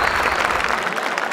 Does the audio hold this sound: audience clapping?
yes